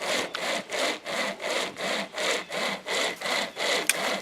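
A Sportsman pocket chain saw cutting through wood, steady rasping strokes pulled back and forth about nine times in an even rhythm, close and clear with no talking.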